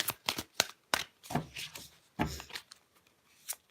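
Playing cards drawn one at a time during a tarot-style reading, a series of short, soft slides and flicks with quiet pauses between them.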